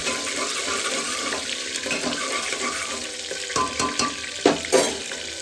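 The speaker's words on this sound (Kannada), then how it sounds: "ಸ್ವಲ್ಪ ಇದು ರೋಸ್ಟ್ ಆಗಲಿ ಎಣ್ಣೆಗೆ." Green chillies roast and sizzle in hot oil for a simple plain pulao, a steady frying hiss with scattered louder crackles and stirring clatter near the end, no voices.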